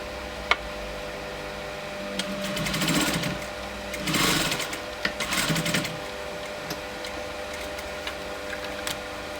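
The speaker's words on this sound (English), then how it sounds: "now I'm going to stitch on the stitching line that I've already done" A sewing machine stitches along a fabric line while making pinch pleats, with three short bursts of machine whirring in the middle and quiet handling noise between them.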